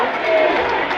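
A loud, sustained crowd roar fills an ice hockey arena during a playoff game, a dense, steady wash of cheering with no break.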